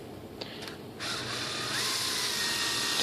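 A cordless drill runs briefly as its chuck is loosened and backed off during a composite sailplane rudder-control build, first a couple of short clicks, then a steady whirring motor that holds on close and fairly quiet.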